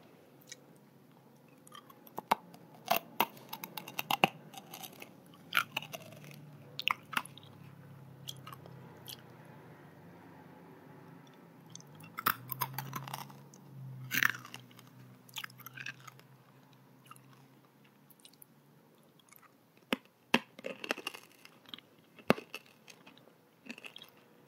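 Close, intimate chewing of a crunchy protein snack, with sharp bites and crisp crunches in uneven bursts between soft mouth sounds and quiet pauses, intermittent over a long stretch.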